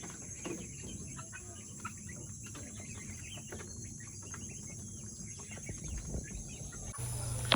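Chickens in a coop at feeding time cluck and chatter in a steady, faint background, with insects buzzing along and no one speaking.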